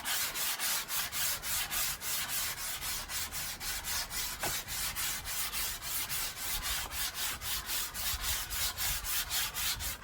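Hand sanding of wood with sandpaper, a steady rapid back-and-forth rasping stroke that keeps an even rhythm throughout, close up.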